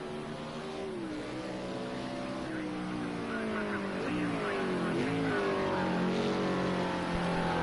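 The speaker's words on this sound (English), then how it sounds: "There's Matthew Johnson, and it looks like that he will be setting the first lap of the weekend, of the day, here in OLTOUN Park." Race car revving through a qualifying lap at Oltoun Park, engine pitch rising and falling with gear changes, loud and steady throughout with a commentator talking over it.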